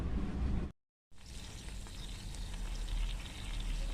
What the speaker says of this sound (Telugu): మొత్తం ఇలా ఫ్రై చేసుకోవాలండి